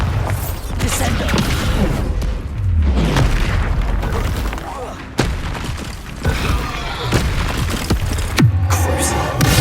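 Spell explosions from Bombarda and other combat spells in the video game Hogwarts Legacy, a series of booming blasts and impacts over busy battle noise, with a voice calling out spell names at points.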